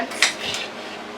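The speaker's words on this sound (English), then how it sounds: "I'm just going to cut in strips like this." A knife cuts vegetables into strips for a roasted garlic vegetable dish, giving a couple of quick, close scraping clicks against a cutting board in a short burst.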